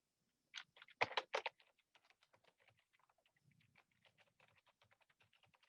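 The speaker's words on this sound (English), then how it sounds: "So let me type it again." An email address is typed on a computer keyboard: a brisk burst of louder keystrokes at first, then a steady stream of soft, quick clicks, close and with no talking.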